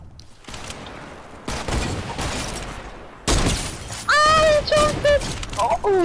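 Video game gunfire in Fortnite: bursts of shots crackle across the clip, with a rapid volley near the end, while players talk over the action.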